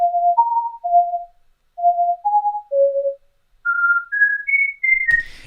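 A synthesized whistle tone built in the Vital synthesizer plays a series of short pure notes stepping up and down in pitch, ending with a brief noisy burst.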